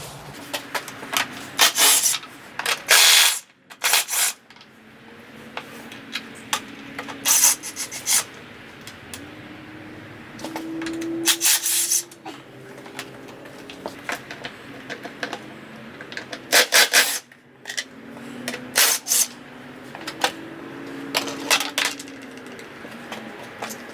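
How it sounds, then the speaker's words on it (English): A power drill whirs in repeated short bursts, spinning up and stopping, with scraping, clicking and rattling as plastic parts are removed from a Kawasaki KX250F motorbike. "I'm going to use the new drill"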